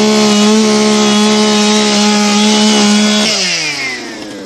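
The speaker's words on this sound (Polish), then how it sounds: "czy ja bym udał piłę łańcuchową tak po raz pierwszy" A chainsaw runs steadily at high revs as it cuts into wood, its loud buzzing whine holding for about three seconds before the pitch drops and the engine winds down toward the end.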